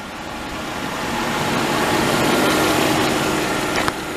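A 2013 Volvo XC90 R-Design's 3.2 liter inline six idles smoothly, a steady close engine hum that swells slightly and holds for several seconds without speech.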